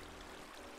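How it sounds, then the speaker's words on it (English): Water placed from a bucket in Minecraft pours as a brief, faint, steady rushing trickle, lasting under a second with no voices. "what you're going to want to do in here is place a water bucket"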